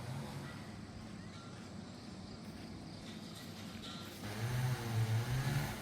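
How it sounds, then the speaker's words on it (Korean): Grass-cutting machinery runs near a park trail in a pine grove as a continuous, fairly loud engine drone that grows rougher and louder toward the end, with a steady outdoor background beneath it. "풀 작업을 하네요."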